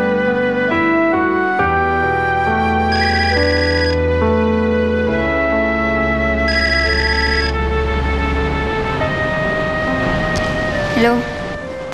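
A phone ringtone plays loud and close, a melodic electronic tune of stepped tones with a brief higher chime, running steadily for several seconds.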